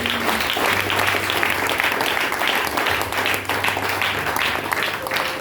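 Church congregation applauding a donor, with sustained, dense clapping from a crowd that stays steady and fairly loud throughout.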